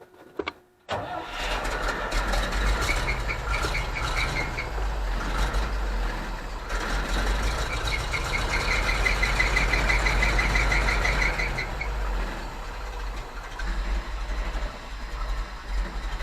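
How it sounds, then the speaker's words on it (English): Cold start of a GMC C7000 AWD dump truck on a near-freezing day, restarted after stalling. The engine cranks and catches after a second, then settles into a heavy, continuous low diesel idle rumble, close and loud with no talk. "So here it is sitting at idle."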